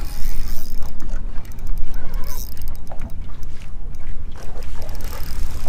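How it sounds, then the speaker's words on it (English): A trolling motor drives a fishing boat on Lake St. Clair during a smallmouth bass outing, a rough, fluctuating whir mixed with water slap and wind noise, fairly close and continuous. "Chasing him with the troll motor."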